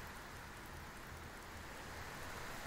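Steady rain falls across a harbour approach in the submarine game U-Boat, a dense, even hiss of drops with a low rumble underneath, constant and enveloping for the whole stretch with no voices.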